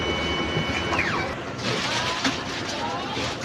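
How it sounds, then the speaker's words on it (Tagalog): An inkjet printer loaded with color and white ink runs a nozzle test, producing a continuous close mechanical whir with scattered clicks and ratcheting carriage noises. "Nozzle test."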